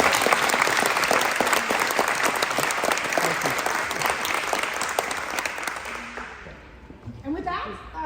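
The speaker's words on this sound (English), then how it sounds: "So please give a round of applause." Applause from a crowd at a retirement reception held in a museum, steady sustained clapping that fills the room, with a voice speaking over it, before the clapping fades out near the end.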